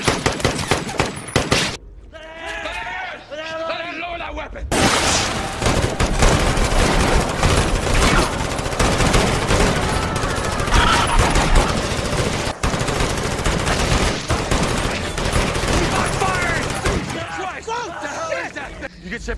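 In the film Battle Los Angeles, soldiers open fire on an alien with dense, sustained bursts of gunfire. The shooting is loud and continuous, with voices heard at the start and the end.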